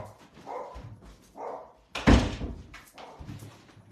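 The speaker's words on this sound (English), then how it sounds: "I'm just going to shut this door because my dog's driving me crazy" A door is pushed shut with a single solid thunk partway through, heard close and fairly loud, while a dog makes a few muffled barks and whines before and after.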